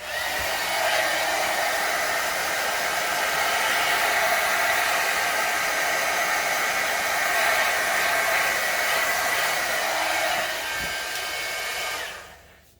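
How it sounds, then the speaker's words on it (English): A heat gun blows steadily over acrylic paint cells, a loud, close, continuous airy roar that holds for about eleven seconds before cutting off abruptly, with no voices. "So let's shoot it again with the heat gun."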